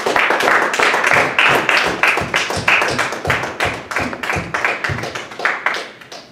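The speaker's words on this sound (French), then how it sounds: "Une main d'acclamation à la parole de Dieu." A church congregation claps together in a steady, fast rhythm, loud and close, each clap sharp and distinct, filling the whole stretch with no speech over it.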